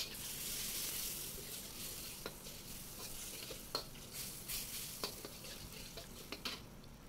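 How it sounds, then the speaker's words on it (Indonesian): Steady sizzling of carrots stir-frying in a hot pan, with occasional clicks and scrapes of a utensil, no voices. "tumis dulu wortelnya untuk jadi setengah matang"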